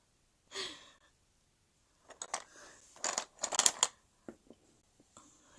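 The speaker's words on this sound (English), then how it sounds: "just picking my pencils out of my tub." Pencils clatter and rattle in a tub, a few brief bursts of wooden clicking and scraping, close by with pauses between.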